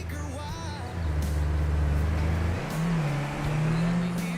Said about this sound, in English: I don't know if this Skoda is supposed to be this high revving